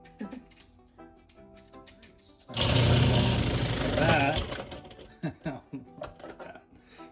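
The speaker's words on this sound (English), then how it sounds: "We will be shredding these with some onions in a food processor." Food processor shredding vegetables with onions kicks on after a quiet stretch of kitchen handling and runs as a loud whirring motor for about two seconds, then stops as a person talks and utensils clatter.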